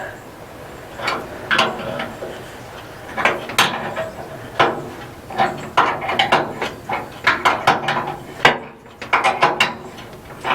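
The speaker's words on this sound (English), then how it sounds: "Let me tighten it up with a" Wrench ratcheting to tighten a part on a 1972 GMC 3500 wrecker, heard as bursts of quick clicking pawl strokes in uneven groups, close by and moderately loud, with brief voices in between.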